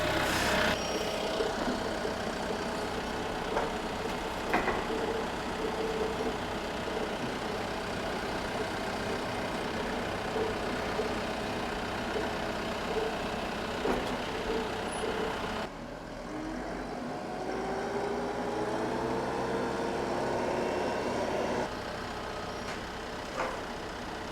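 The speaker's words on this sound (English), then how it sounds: "I'm gonna drive the tractor around from the other side," A heavy diesel tractor engine rumbles continuously at close range while driving uphill, holding a steady chugging drone with slight shifts in pitch as the tractor moves.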